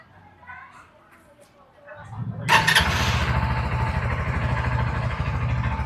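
A Suzuki V-Strom 160 motorcycle engine cranks and fires up, then settles into a steady, fairly quiet idle close by.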